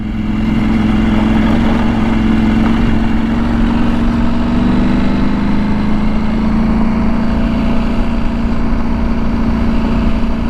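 A KTM 790 Adventure R motorcycle engine drones steadily at close range throughout a ride over washboard dirt, with a constant hum and rough rumble underneath and no voices.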